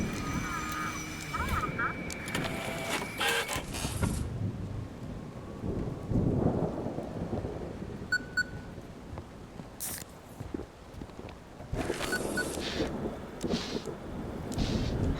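Stormy ambience in the horror video game Static Dread at a lighthouse by night: rumbling thunder and rain roll on steadily throughout, with several sharper bursts and claps standing out, while a voice talks over parts of it.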